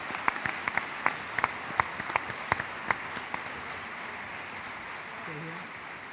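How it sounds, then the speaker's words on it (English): Scattered, thinning applause for staff longevity award recipients at a ceremony, with distinct sharp claps standing out early, then fading into a low room murmur with a brief voice near the end. "can we award all of our longevity and recipients with an applause?"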